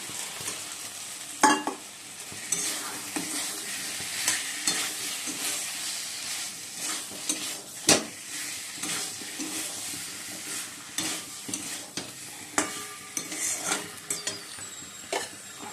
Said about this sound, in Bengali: মশলাটা কষে নিচ্ছি। আদা রসুন পেঁয়াজ জিরে গুঁড়ো ধনে গুঁড়ো হলুদ আর কাশ্মীরি লঙ্কা আর দিলাম।